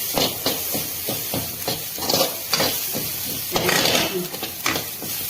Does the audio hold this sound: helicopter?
no